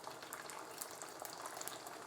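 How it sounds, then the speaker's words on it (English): A faint, steady sizzle of beaten egg frying in a hot pan, with soft crackles and pops scattered across a continuous hiss. "That'll start sizzling away, start puffing up."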